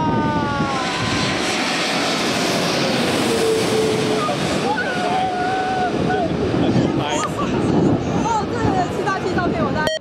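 An ANA Boeing 787 airliner landing in strong wind at Taipei Songshan Airport, a loud continuous engine roar with a shifting whine, buffeted by heavy wind noise, and voices talking underneath.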